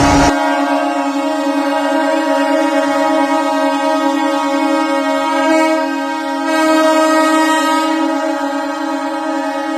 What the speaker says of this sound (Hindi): 12 बजते ही एक साथ ट्रेन का हॉर्न बजाया गया